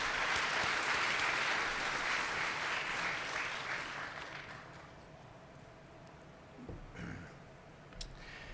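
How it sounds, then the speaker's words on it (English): A hospital leadership audience claps loudly for a stroke center team's quality award, the dense applause fading over several seconds into quieter room noise with a few scattered claps near the end. "Let's give them a round of applause."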